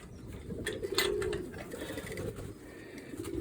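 Domestic pigeons give low cooing calls at close range, a steady burbling that runs under faint rustling and background noise.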